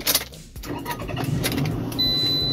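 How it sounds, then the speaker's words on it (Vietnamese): A 2007 Toyota RAV4, a US import, has its engine started from inside the cabin: a short cranking burst gives way to a steady idle hum with a thin whine, close and fairly loud. "Tôi sẽ nổ máy chiếc xe này lên để cho quý vị và các bạn cùng xem"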